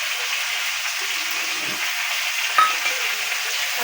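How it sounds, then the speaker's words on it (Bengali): Bay leaf, ginger, onion, garlic and chilli powder frying in a pan of khichuri base, a steady broad sizzle with one brief spoon scrape partway through, no voices. "নাড়াচাড়া করে নেব।"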